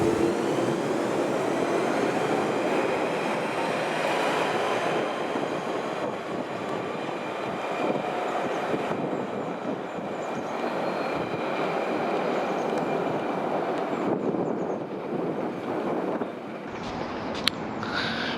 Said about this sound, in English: this train will leave for West Ruislip in the next few minutes